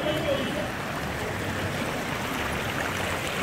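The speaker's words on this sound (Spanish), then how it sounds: "el arroyo sí está un poquito fuerte" Strong stream of water rushing through a street in central Barranquilla, a steady broadband roar of flowing water that holds at an even level throughout, close by.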